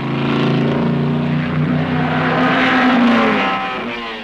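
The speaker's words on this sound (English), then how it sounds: "Fitzpatrick takes his 1300cc fuel-injected Escort past Rhodes and into the lead and begins to pull away lap by lap" A 1968 British Saloon Car Championship 1300cc fuel-injected Ford Escort racing through a hairpin, its loud engine note holding steady and rising close by with no one talking.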